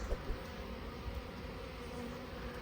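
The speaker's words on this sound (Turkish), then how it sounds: "Yoğun bir şekilde bugün çalışıyorlar arılar." A steady, dense buzzing drone of many honeybees close by at a hive in Switzerland during spring cleaning, with a couple of brief louder bumps near the start and no voices.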